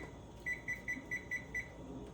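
A series of six short, evenly spaced electronic beeps from a kitchen timer being set, clear and close against a quiet room hum.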